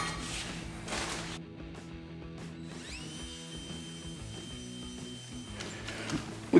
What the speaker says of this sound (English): I'll wire wheel this caliper bracket